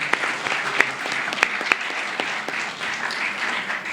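A small audience at a clinical respiratory physiology lecture gives a round of applause, with a steady patter of clapping and a few sharper individual claps standing out.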